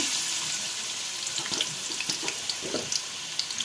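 Oil heated in a pan for cooking meat gives a dense, even hiss close by, like rushing water. Small pops and light ticks scatter through it, and no one speaks.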